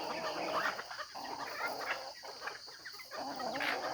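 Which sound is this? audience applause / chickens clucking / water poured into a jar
chickens clucking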